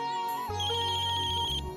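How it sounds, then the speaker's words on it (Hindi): A mobile phone ringtone plays nearby as a bright electronic melody with a looping high chime over a steady bass pulse, continuous throughout and not mixed with any speech. "फोन बज रहा है आपका"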